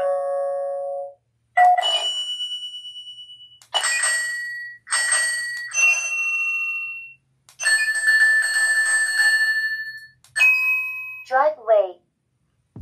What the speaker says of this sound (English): Then you know somebody's ringing the doorbell.